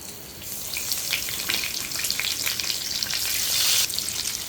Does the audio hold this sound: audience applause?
no